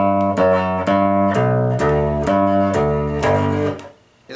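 Minuet in G played on piano, a steady run of clear single notes stepping through the melody at an even pace, sustained and full before a brief drop near the end, with no talking.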